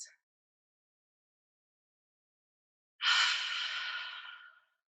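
A single long, deep exhale during a seated chair yoga stretch, breathy and soft, heard alone after a few seconds of silence.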